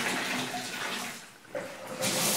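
An old original shower faucet sprays water hard, a loud rushing hiss that dips briefly in the middle and then surges back stronger, with no one speaking over it.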